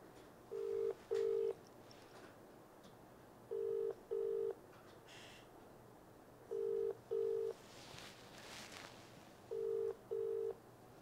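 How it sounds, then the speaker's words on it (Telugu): A telephone call rings out with a ringback tone: four double-pulse rings, evenly spaced about three seconds apart, clear and steady over a quiet line with no talk. "వార్డెన్కి ఫోన్ చేద్దాం."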